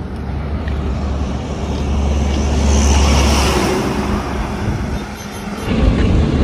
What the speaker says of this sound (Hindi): गाड़ियों जाए छे मोटी मोटी